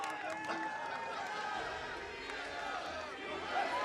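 An esports arena crowd at a League of Legends match between TSM and CLG, a broad roar of cheering and chatter under close caster talk.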